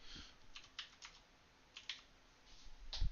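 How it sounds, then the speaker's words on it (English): Fingers tap out a PIN on a computer keyboard during a spare PC transfer to a Hyte Y60 case, giving a few sparse, faint keystroke clicks with quiet gaps and no talk. "Not like you'd want to see me type my pin in anyway"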